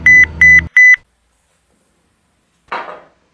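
A mobile phone lying on a table sounds a notification for an unread email, three short, clear, evenly spaced beeps followed by silence and a brief soft rustle.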